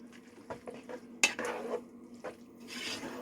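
A spoon scrapes and clinks against a pot while vegetable sauce gets stirred into shell pasta and ground beef, with soft irregular knocks and a faint simmer underneath.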